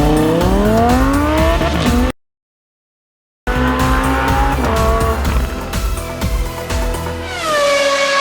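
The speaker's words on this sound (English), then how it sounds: "Turbo Golf Racing is a racing game combining cars with golf" Cars race in the video game Turbo Golf Racing with loud, close engine whines rising and falling in pitch and tire squeals, cut by a brief silence partway through.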